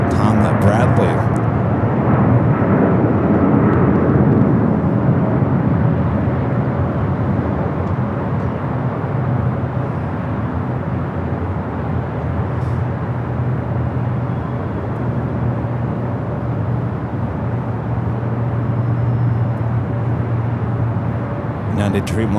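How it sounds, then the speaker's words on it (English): A Boeing Dreamliner takes off from runway 25 right on the south side at LAX, a steady broad jet roar rumbling continuously at moderate distance, with a voice talking over it. "Dreamliner taking that off there on the south side, 25 right."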